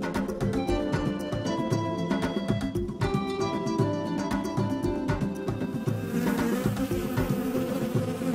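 A bee buzzes steadily near two giraffes as they munch, a close, continuous drone with a constant pitch that runs throughout.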